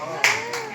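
Two quick hand claps from a children's bird-clap game, sharp and close, spaced about a quarter second apart, heard amid a voice.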